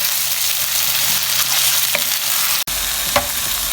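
Minced meat sizzling and frying steadily with garlic in a hot pan, with a few scraping stirs and a brief sharp click partway through.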